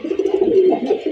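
Red pigeons of a domestic breed cooing at close range, a loud continuous low throaty coo with slight rises and falls, no talk.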